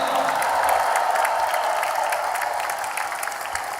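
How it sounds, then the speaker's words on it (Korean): A crowd at a party presidential nomination acceptance event applauds two lawmakers, a dense, fairly loud round of many hands clapping that stays steady and then eases off slightly toward the end. "박수 부탁드립니다."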